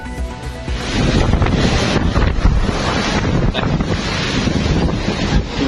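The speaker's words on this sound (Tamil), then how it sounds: "பிலிப்பைன்ஸில் மணிக்கு 230 கிலோமீட்டர் வேகத்தில் வீசிய சூறாவளி." Cyclone winds of about 230 km/h in the Philippines roar loud and continuous, with heavy buffeting gusts battering the microphone throughout.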